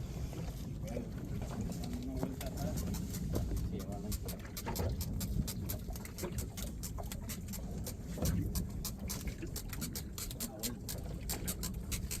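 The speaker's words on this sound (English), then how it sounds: "the sound that you're hearing, that's the sound that the lobster is making" Rapid clicking and crackling from a lobster, scattered irregularly over a steady rumbling background, with a voice faintly underneath.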